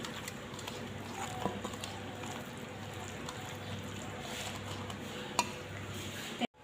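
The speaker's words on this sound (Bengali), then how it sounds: "সব ভালো করে একসঙ্গে মিশিয়ে নিচ্ছি।" Ingredients with turmeric powder are stirred and mixed together in a pan in a home kitchen, producing soft continuous scraping and clinking close by, ending in a sharp knock.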